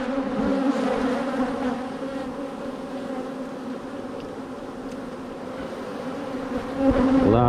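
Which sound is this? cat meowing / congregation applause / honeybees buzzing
honeybees buzzing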